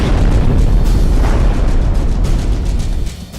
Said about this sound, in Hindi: 3 सीरियल धमाकों से काबुल एयरपोर्ट दहल उठा